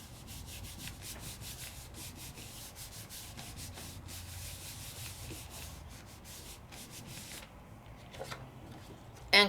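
A rubber stamp is rubbed by hand across its back onto paper, giving a quiet, continuous run of close brushing strokes that fade near the end, with no talk.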